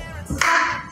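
A single sharp hand clap lands within a step-clap dance sequence at a children's dance class; the crisp close slap stands alone between softer footstep sounds.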